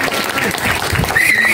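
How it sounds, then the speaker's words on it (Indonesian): Brief applause from the audience at a Muhammadiyah regional leadership election session in Sleman, a steady wash of clapping with some voices mixed in. "Tepuk tangan untuk kita semua"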